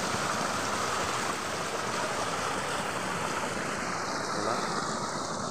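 Large volume of water pouring steadily into a tomato garden for irrigation, a continuous close, loud rushing wash with no pauses.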